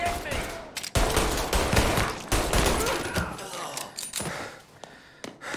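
Gunfire in the video game Mafia Definitive Edition, with repeated loud close bursts of shots and rapid volleys running through most of the stretch, easing off near the end, with game voices mixed in.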